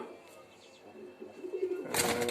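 Soft pigeon cooing close by, low throaty murmurs, followed by a sudden burst of louder rustling or fluttering at the end.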